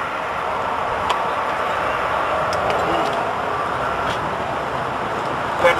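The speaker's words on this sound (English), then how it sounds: "So let's start it on vapor." An engine runs on fuel vapor alone with its fuel line disconnected, holding a steady, close, even drone with a few faint clicks and ticks over it.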